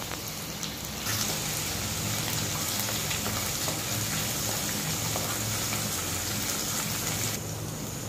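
Thecha chili-garlic paste sautés in hot oil for a prawn curry, a loud, dense, continuous sizzle that surges as it begins and eases near the end.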